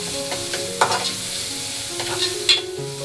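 Kanda poha, onion flattened rice, cooking in a pan, with a steady close sizzle and occasional scraping stirs of a spatula against the pan.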